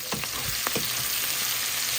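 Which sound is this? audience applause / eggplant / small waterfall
eggplant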